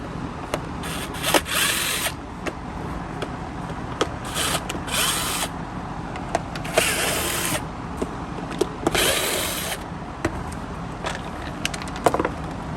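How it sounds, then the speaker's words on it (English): Power drill or screwdriver bursts backing screws out of the motor unit of a Bissell CleanView Swivel Rewind Pet vacuum, several loud whirring runs of a few seconds each, separated by clicks and handling noise. "there's screws that you can take off here to get at the motor"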